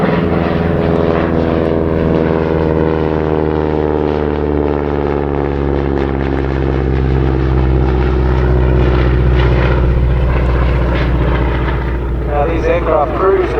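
A propeller aircraft flies past at an air show, its loud engine drone sustained and shifting in pitch as it passes, with voices faintly beneath.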